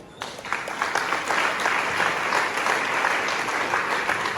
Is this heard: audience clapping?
yes